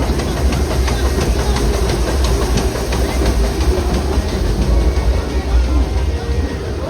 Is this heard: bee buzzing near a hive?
no